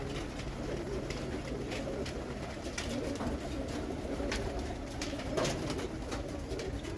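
Pigeons cooing and landing at a rooftop loft, a dense, continuous murmur of cooing with soft flutters and scattered clicks, moderately close.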